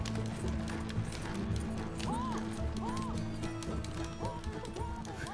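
Horse hooves clop steadily while pulling a stagecoach in Red Dead Redemption 2, a faint rhythmic trot under wheel rumble, background score and a quiet voice.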